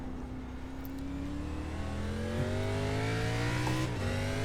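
A stock car in a racing video game revs hard with its rear end losing grip, the engine pitch climbing steadily in one continuous rising drone, then briefly dropping near the end.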